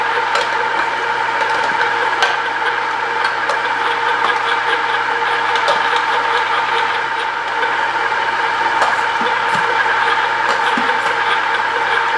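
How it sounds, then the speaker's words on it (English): Steady motor hum of a Fabio Leonardi electric meat grinder grinding whole red peppers, skin, seeds and flesh, into hot pepper paste, continuous and fairly loud throughout with faint clicks and no talking. "Using the Fabio Leonardi Meat Grinder allows the skin, seeds, flesh, and pulp of the peppers to be ground together"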